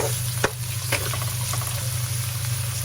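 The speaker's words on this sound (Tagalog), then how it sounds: "Lutuin muna natin ng konti ang sibuyas, bawang at saka luya guys." Onion, garlic and ginger sauté in a hot pan for chopsuey, sizzling steadily with a few stirring clinks and scrapes close by.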